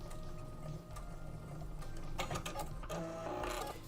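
Sewing machine stitching in reverse runs with a steady mechanical whir and rapid ticking clatter, close and moderately loud, with no talk over it.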